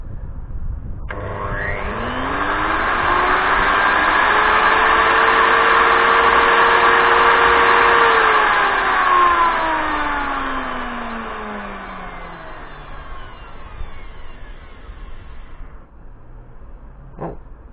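A Ryobi router mounted in a router table with a homemade dust extraction port whines up to speed, holds a loud, steady high-pitched roar for several seconds, then winds down with a falling pitch before a brief click near the end.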